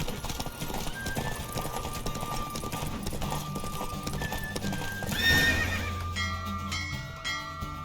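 A horse gallops in The Witcher video game, its hooves clip-clopping steadily under a music score, with whinnying neighs and a loud rush partway through as the ride finishes.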